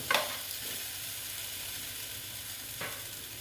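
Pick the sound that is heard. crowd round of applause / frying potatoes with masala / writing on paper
frying potatoes with masala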